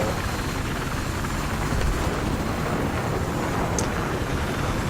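A Venom attack helicopter in Battlefield on the Wake Island map thrums with a dense, steady rotor and engine roar, loud and unbroken throughout, with no voices over it.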